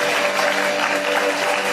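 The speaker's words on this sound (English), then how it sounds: "Let's give a huge round of applause." Brief burst of steady, dense clapping from an alumni meet audience, loud and even with no pause.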